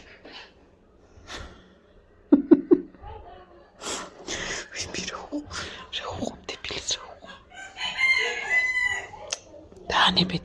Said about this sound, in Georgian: ის მამალი ხო არ დაიღალა